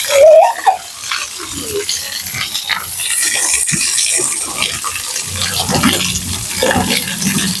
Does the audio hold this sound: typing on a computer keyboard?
no